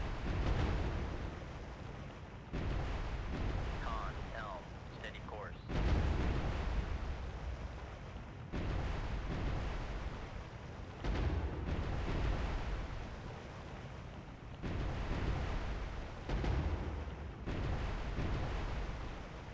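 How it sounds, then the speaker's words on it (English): Naval gunfire and missile strikes in the Cold Waters submarine game: repeated deep booming blasts every few seconds over a continuous low rumble, distant-sounding and steady, with no talk. "since the gun hits are going to be really slow, let's go ahead and shoot it with one more missile"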